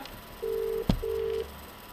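A phone call ringing through a GSM 800A/900A module: two steady electronic ringback tones separated by a short gap and a sharp click, clear and close, with no talk.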